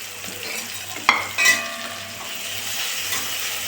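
Onion, green chili, ginger and garlic sizzle in hot coconut oil, a steady fry broken by a couple of sharp stirring clanks from a spoon in the pan.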